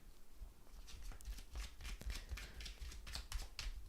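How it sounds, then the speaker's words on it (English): A deck of cards being shuffled up close in quick riffling bursts, a soft flutter of snapping cards lasting a few seconds. "let's have a little shuffle for you."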